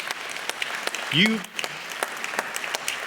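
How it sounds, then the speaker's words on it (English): An audience applauds downtown business owners at a State of the City address, with scattered claps and a voice speaking briefly over them partway through. "We need a round of applause for these folks."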